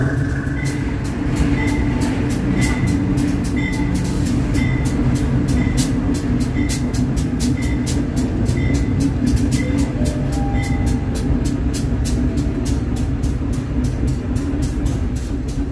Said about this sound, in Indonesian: kereta api lokal yang saya naiki sudah sampai di stasiun Kepanjen